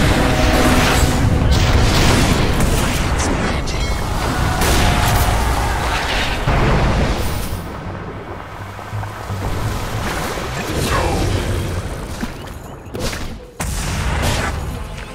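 Sustained attack on a tower in Dota 2, with loud, dense booming impacts and crackling blasts running almost continuously, then a brief lull before the barrage resumes toward the end.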